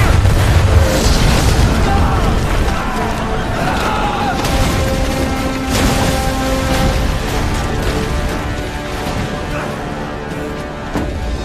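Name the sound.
ship cannons firing in battle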